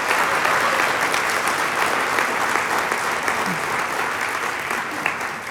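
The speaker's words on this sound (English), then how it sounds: "Round of applause for Leah Mann and the Dancing Women of Vashon." A congregation applauds in a church sanctuary after a dance performance, sustained dense clapping at a steady level that tapers only slightly toward the end.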